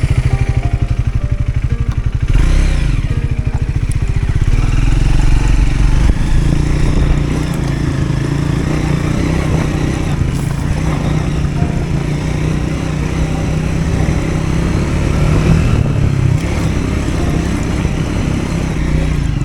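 A Triumph Scrambler 400 X motorcycle engine drones loudly and continuously, revving with steady strain as it climbs uphill on Barekall Betta, with wind rushing past.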